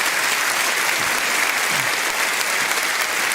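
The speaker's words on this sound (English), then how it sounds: "Please, ladies and gentlemen, another round of applause for Scott Woodhouse and Tina Goodell." A Norfolk audience applauds at a Reform UK local election rally, steady dense clapping filling the room for a few seconds without pause.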